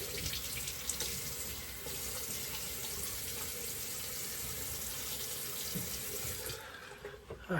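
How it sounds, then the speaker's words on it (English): A bathroom tap runs steadily for a quick rinse after shaving, a close, even rush of water pouring into a sink that continues unbroken before cutting off at the end. "I'll just do a quick rinse."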